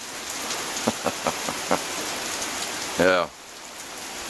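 Rain falls steadily with a broad constant hiss and a few sharper drop taps, while a brief spoken word cuts in near the end.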